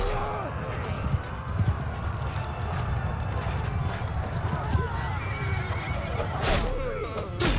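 Horse whinnying and hooves clip-clopping in the Mount & Blade II Bannerlord game during a battle, with a loud neigh and rapid galloping hoofbeats under busy combat noise and a voice.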